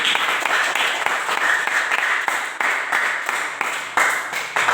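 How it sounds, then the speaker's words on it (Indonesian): Children clap their hands together during a morning school greeting, a steady ongoing patter of many small claps for several seconds with no talking over it. "Oke, tepuk tangan dulu untuk kita semua hari ini."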